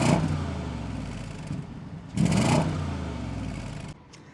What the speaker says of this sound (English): Let me actually just start it up and rev it for you guys real quick.